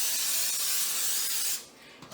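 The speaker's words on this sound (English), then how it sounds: "I use Pam. And what you do, you just spray your" A can of Pam cooking spray hisses onto a muffin pan in a kitchen, one steady close spray burst lasting about a second and a half before it cuts off, with no talking.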